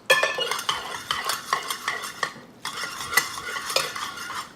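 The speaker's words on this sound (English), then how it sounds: "Keep the pasta moving." Spaghetti tossed with grated cheese in a pan is stirred briskly, with close, busy scraping and clinks of a utensil against metal in a steady rhythm, a short pause near the middle, and no talking.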